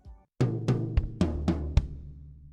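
A beginner drum fill of two floor-tom notes and one bass-drum note played together: six sharp, evenly spaced hits with ringing low decay, close and loud, after a faint brief sound at the start.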